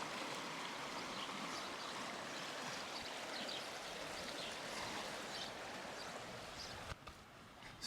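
The Skeena River in northwest British Columbia flows past in a steady rushing wash of water, continuous and even, with a brief knock near the end.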